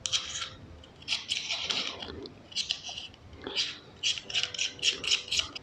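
A clip-on macro lens is screwed onto a smartphone, giving close, repeated dry clicking and ratcheting scrapes in short bursts, with faint talking underneath.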